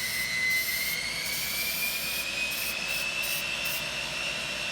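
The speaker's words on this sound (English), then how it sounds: "sorry, that's the saw." A power saw runs nearby indoors, giving a steady, fairly loud mechanical whine that rises slowly in pitch over a bed of broad, rough noise, with no voices.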